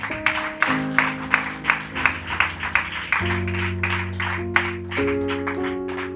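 Rhythmic congregation clapping in an evangelical church service, roughly two claps per second in a steady beat over sustained keyboard or organ chords that shift pitch every few seconds.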